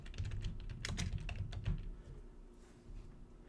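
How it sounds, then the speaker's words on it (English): Rapid clicking keystrokes on a computer keyboard during an at-home lesson, a quick burst of typing that slows into scattered taps, fairly close and quiet with no talking. "So have them type in their favorite animal."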